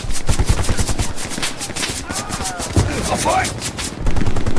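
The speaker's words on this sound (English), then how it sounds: "Keep shooting, keep shooting." Rapid machine-gun fire rattles continuously in the World War II shooter Hell Let Loose during a D-Day battle, loud and close with overlapping bursts and a voice briefly calling out.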